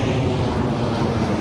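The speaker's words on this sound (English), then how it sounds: "sorry about that plane." An airplane passes overhead as a steady, loud, broad roar of engine noise and rushing air, continuous across the short moment with no other sounds.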